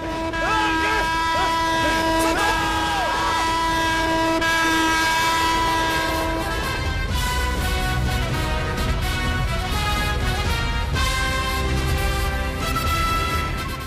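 Oncoming train in a movie stunt scene, with a loud, steady horn blaring over rolling wheel rumble throughout, mixed with music and dramatic sound.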